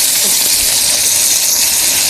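Ginger garlic paste hitting hot oil in a cooking pot for chicken biryani, giving a loud, steady sizzling hiss that holds evenly throughout with no pauses.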